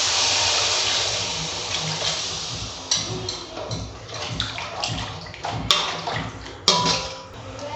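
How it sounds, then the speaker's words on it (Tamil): About a cup of water poured into masala frying in oil for chicken and chickpea kulambu: a loud rushing splash and sizzle, with several sharp clinks and knocks of a pan or utensil over the last few seconds. "தண்ணி 1 கப் அளவுக்கு சேர்த்துக்கணும்."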